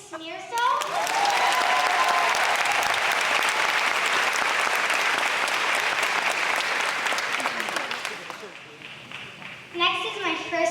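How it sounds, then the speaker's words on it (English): A school audience claps warmly for a teacher, a dense sustained burst of applause that swells quickly, holds steady for several seconds, then fades as voices return near the end. "How about a round of applause for Mrs. Smearsall?"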